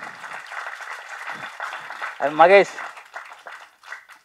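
An audience at a Tamil film audio launch claps in sustained, steady applause while a speaker's voice calls out briefly over it.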